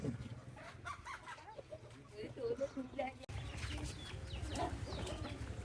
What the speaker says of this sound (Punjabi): ਮਾਰ ਫਾੜੇ ਕੁੱਕੜ